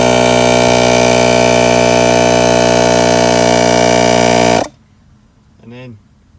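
The air suspension compressor pump on a Mercedes-Benz Sprinter van runs with a loud, steady mechanical drone for several seconds, then cuts off abruptly, followed by a brief voice.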